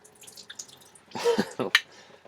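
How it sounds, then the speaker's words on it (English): Water drips out of a rusty motorcycle exhaust pipe, a few close, irregular splashy drips and gurgles, the last one sharpest, in a quiet indoor space. "Still water coming out of there."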